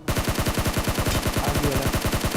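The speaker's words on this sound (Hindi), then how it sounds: "बगल बिल्डिंग से कोई M4 चला रहा था, दगादग चलाया जा रहा है।" Rapid automatic M4 rifle fire from a neighboring building in the mobile shooter BGMI, a loud sustained burst of evenly spaced shots with no pauses and no talk.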